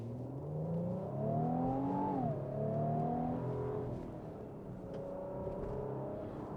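A 2025 Infiniti QX80 with a 3.5-liter twin-turbo V6 revs steadily with traction control off, its engine tone climbing, dipping briefly and then holding a sustained drone. The sound is loud, close and continuous, with no talking over it.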